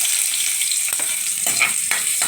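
Sliced ginger sizzles steadily in a hot pan of oil for a Filipino chicken curry, with a few soft stirring scrapes; close and fairly loud, no talking.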